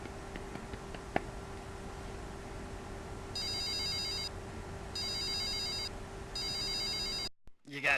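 A telephone rings for an incoming call in three separate electronic ring bursts, each about a second long, over a low steady room hum with a faint snap early on.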